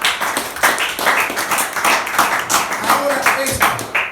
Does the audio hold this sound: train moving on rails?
no